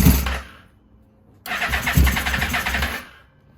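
A Yamaha VMAX motorcycle, just back from carburetor cleaning, makes a short starter burst with the choke off, then falls quiet, then fires and runs roughly for about a second and a half before dying out.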